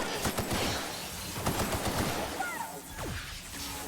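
An upgraded gun in The Outer Worlds fires in a rapid string of sharp shots at robots, several bursts close together with quieter tails and game effects between them.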